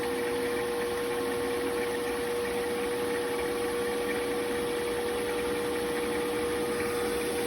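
Buick 231 forged crankshaft spins on a balancing machine, giving a steady, even mechanical hum with a constant pitched whine and no pauses or talk.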